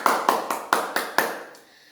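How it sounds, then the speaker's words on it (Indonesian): Classroom students clapping together in six sharp, evenly spaced unison claps, close and loud, fading to quiet afterward. "Ayo berikan dulu tepuk tangan untuk kita semua."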